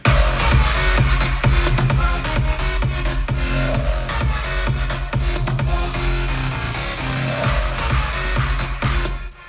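A dense, loud electronic drop with layered synths and driving bass playing continuously, full and busy throughout with no speech.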